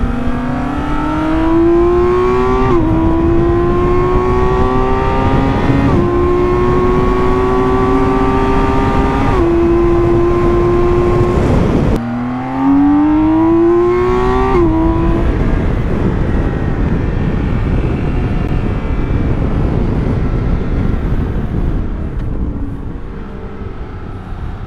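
A BMW motorcycle on the MotorPark Romania race circuit accelerates hard, its engine note rising in repeated loud sweeps as it shifts up through the gears, then revs again after a brief drop, close and continuous with no talk.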